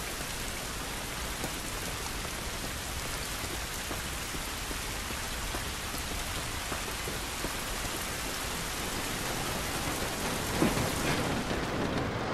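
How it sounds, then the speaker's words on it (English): Heavy rain pours in The Last of Us video game, a dense, steady hiss of drops on surfaces that stays close and constant, with a soft roll of thunder building faintly near the end and no voices. "This rain ain't gonna do us any good."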